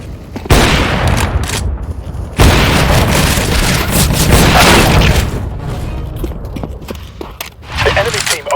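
Gunfire and booming blasts on the Dust 2 map in Counter-Strike: Global Offensive team deathmatch, loud rapid shots mixed with a game voice and footsteps.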